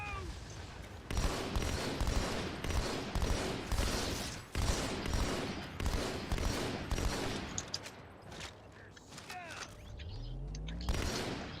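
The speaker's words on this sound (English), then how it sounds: "Grenade! Grenade! Move!" Video game firefight with dense bursts of gunfire and explosions from grenades, loud and continuous through most of the stretch, then thinning toward the end.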